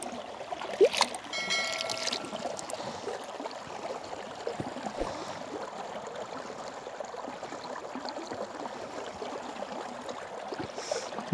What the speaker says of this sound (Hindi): यहाँ से पानी निकल रहा है, ये चश्मा निकल रहा है।